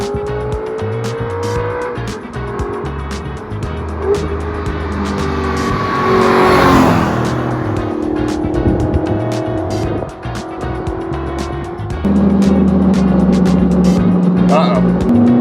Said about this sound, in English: this car sounds good